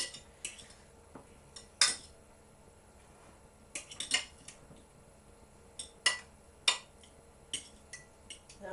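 Roast potatoes turned over in hot fat in a metal roasting tin: quiet, sporadic clinks and scrapes of a utensil against the tin, with short pauses between.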